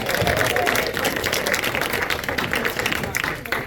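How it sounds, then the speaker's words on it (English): Audience at a magic show in Stillwater applauds a volunteer, dense sustained clapping from a crowd filling the whole moment, with some voices mixed in. "Give him a round of applause,"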